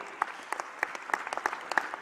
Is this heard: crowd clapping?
yes